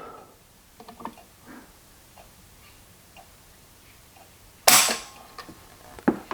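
A Ruger PC Carbine is dry-fired against a Lyman trigger pull gauge, producing one sharp, close mechanical snap after a stretch of faint handling clicks, followed by a couple of softer ticks.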